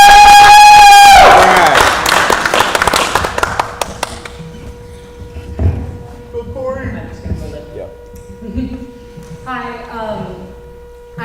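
Audience clapping and cheering at a high school robotics team's robot reveal, a loud burst of applause that fades over a few seconds before a voice begins speaking.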